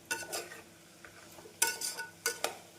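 A spoon stirs vegetables sautéing with onion and tomato in a pan for a vegetable kurma, with repeated scraping and clinking strokes in irregular bursts over a faint sizzle, close by.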